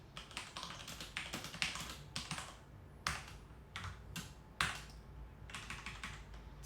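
Fingers type on a computer keyboard in fast bursts of soft clicking keystrokes, close and fairly quiet, with short pauses between runs and no talking.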